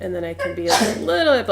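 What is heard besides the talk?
sneeze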